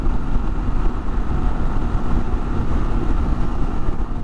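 A Kawasaki KLR 650 dual-sport motorcycle is ridden, giving a loud continuous engine drone mixed with heavy wind rumble, steady throughout and close, with no talking.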